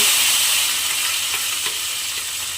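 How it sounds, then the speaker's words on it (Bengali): Carrots that were boiled in milk are added to hot ghee in a pan for carrot halwa, giving a steady close frying sizzle with soft stirring scrapes. "এবারে যে গাজরটা আমি দুধের মধ্যে সেদ্ধ করে রেখে দিয়েছিলাম সেটা আবারও আমি এর মধ্যে দিয়ে দেব"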